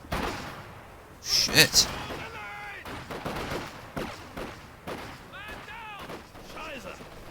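Russian snipers open fire in Company of Heroes 2, with sharp, loud gunshot cracks bunched early and then sparser distant shots under excited talking.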